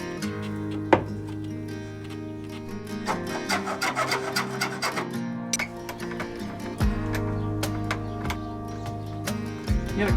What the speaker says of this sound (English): we just gotta cut and flare these.